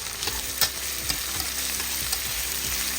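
Cabbage and moong dal sizzling and frying in a pan, a steady hiss under occasional stirring scrapes and light clinks.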